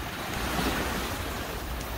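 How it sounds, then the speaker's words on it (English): Small waves lap steadily near a large breakwater on an outdoor shoreline, a continuous close wash of surf with some wind rumble, no talking. "The waves are just kind of miniature over here because of that giant"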